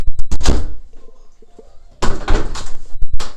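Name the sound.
door thudding shut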